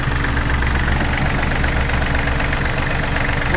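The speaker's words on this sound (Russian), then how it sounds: "Вот так выглядит мотор данного трактора." Yanmar F18D Japanese mini tractor engine idling steadily up close, a continuous loud, even rumble with a slightly knocking diesel chatter and no speech over it.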